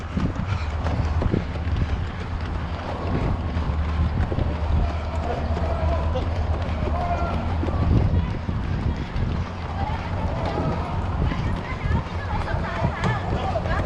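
People run along a ferry pier to catch a departing boat, with rapid footsteps pounding steadily beneath loud, constant talking and a rumbling, windy background.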